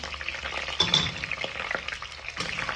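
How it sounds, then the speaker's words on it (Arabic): Onions frying in a pot for lentil soup as carrots and potatoes are added, giving a steady close sizzle with stirring scrapes and a brief louder splash of ingredients landing in the oil. "وهلا بعد ما قلينا البصل بنضيف عليه الجزر والبطاطا"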